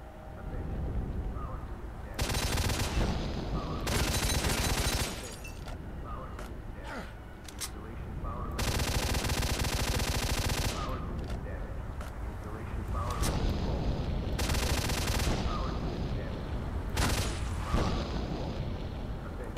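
Gunfire and heavy booms from the video game S.T.A.L.K.E.R. Shadow of Chernobyl come in repeated loud bursts, some lasting a couple of seconds, over a steady ambient game backdrop.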